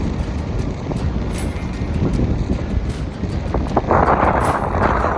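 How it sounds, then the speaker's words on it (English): Steady, rough wind buffeting the microphone outdoors, with a broad roar and occasional gusts growing stronger toward the end. "It is goddamn windy out here."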